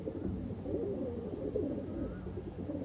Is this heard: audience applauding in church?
no